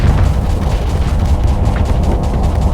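Phase mines explode in the space combat game Starsector, a dense run of deep, rumbling booms and blasts that rolls on continuously, loud and close with no talk.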